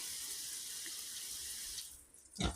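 Water runs steadily from a tap into a container, filling water for farm animals that like to bathe, then cuts off before a brief close splash at the end.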